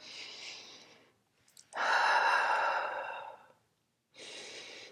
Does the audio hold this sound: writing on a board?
no